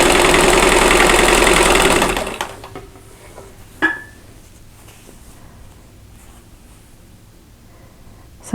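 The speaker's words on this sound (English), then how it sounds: "I'm going to go ahead and chain sew these." A sewing machine chain sews quilt block pieces in a loud, fast, continuous run that stops abruptly after about two seconds, followed by a sharp click and quiet handling noises.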